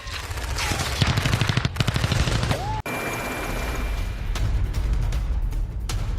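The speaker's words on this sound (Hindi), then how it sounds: "बंगाल की खाड़ी में इंद्र 2025 नेवी का ये साझा युद्धाभ्यास, आधुनिक हथियारों से लाइव फायरिंग की गई है" Rapid bursts of live gunfire from modern naval weapons during the INDRA 2025 joint exercise in the Bay of Bengal, a dense rattling fusillade that pauses briefly and then resumes steadily.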